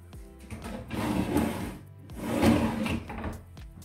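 Three deep drawers in a bathroom vanity slide open and shut in two rolling, rumbling strokes with soft knocks at the ends, close and fairly loud, and no one speaks.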